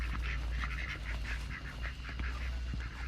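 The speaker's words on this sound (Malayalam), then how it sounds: "രാത്രി അടക്കം താറാവ് നടന്നു കളിക്കുക." Several ducks quack repeatedly in quick nasal calls at a resort, a busy flock chorus heard over a constant low rumble.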